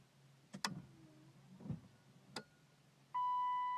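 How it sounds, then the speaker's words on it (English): BMW E34 windshield wipers being switched on: a few sharp switch clicks and a brief motor whir in a quiet car cabin, then a steady electronic tone that sounds at the end. "I'm going to turn the windshield wipers on."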